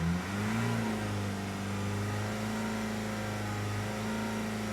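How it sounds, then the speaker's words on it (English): A 2014 Honda CR-V engine revs and holds at a steady higher idle, a loud, close, continuous hum whose pitch rises briefly and then stays level for several seconds. "So let's rev her up"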